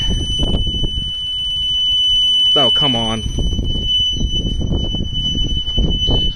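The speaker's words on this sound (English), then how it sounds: "That buzzer is getting unplugged, I can tell you what." Buzzer on a diesel Cushman Truckster sounds in a short, loud, warbling squeal lasting under a second, followed by a steady high electronic tone running underneath while someone speaks and clattering workshop noises continue.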